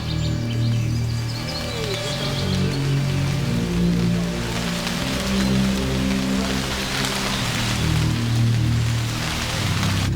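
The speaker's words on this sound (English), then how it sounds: "Rain! Let it rain! Come on down!" Steady rain pours down on a surface in an outdoor garden scene, with a continuous hiss and patter. Scattered bird chirps sound faintly through it.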